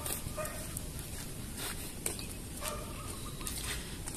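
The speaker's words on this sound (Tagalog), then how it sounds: "Pinatali ang aso guys." A tied-up dog barks on a street in Penang, Malaysia: several short, moderately close barks scattered over a constant outdoor background, with birds faintly chirping.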